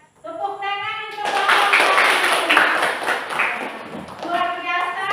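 Students in an Indonesian Islamic religious education class clap for a group's presentation, a dense burst of applause lasting about three seconds, with tonal sounds before and after.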